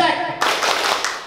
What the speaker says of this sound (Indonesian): Kalau ceknya 2, tepuknya 2.